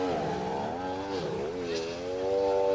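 A Yamaha personal watercraft racing at a lake event, its engine running rough as if missing a cylinder with a clogged exhaust: a loud, steady droning whine that rises and dips in pitch as it passes, with no talk.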